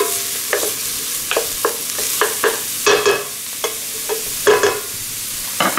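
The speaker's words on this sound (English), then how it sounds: "we're gonna take our old friend, Mr. Bamboo Spoon, and just kind of stir this around a little bit." Red lentils and bay leaves are stirred in a pot with a bamboo spoon, giving a run of regular wooden scraping strokes over a constant background sizzle, loud and close, with nobody speaking.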